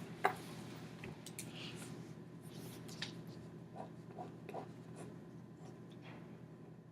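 Pencil or pen strokes scratch across paper as pictures are drawn: quiet, close scribbling with short rubbing strokes and occasional light taps in a hushed room, no voices over it.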